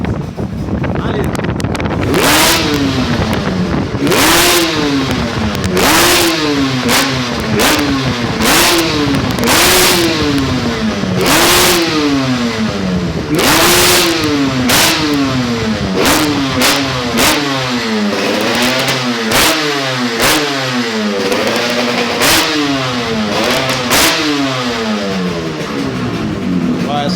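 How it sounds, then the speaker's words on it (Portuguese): A Yamaha RD 350 two-stroke motorcycle with a freshly rebuilt engine and newly tuned carburetor revs loudly and repeatedly, its pitch rising and falling in quick cycles with sharp blips, close to the microphone. "Essa moto ela cai a rotação e cresce rápido."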